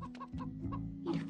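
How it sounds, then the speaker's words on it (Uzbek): A hen clucks in quick, close bursts, a few short rhythmic calls followed by a louder, busier cackle at the end. "lekin tovuq birdan qaqag'lay boshlabdi"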